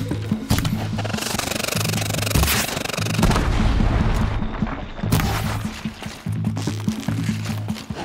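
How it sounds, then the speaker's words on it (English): Gunfire and explosive booms in the video game Horizon Zero Dawn, scattered shots and blasts over a layered musical score, loud and busy throughout the action. "Why are they shooting at me?"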